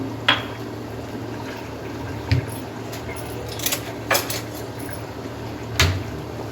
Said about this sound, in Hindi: बाकी का जो मसाला रह गया था ये भी इसमें डाल देंगे और निहारी को मिक्स कर देंगे